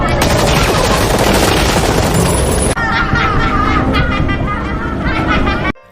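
Loud, dense gunfire rattles continuously in rapid bursts, a heavy fusillade that cuts off abruptly at the end.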